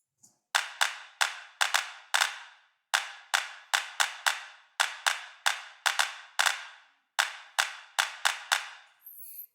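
Two layered sampled hand claps interlock in a crisp rhythm, sharp dry hits with short decays arriving in quick groups separated by brief pauses and forming a steady chain of sixteenth notes.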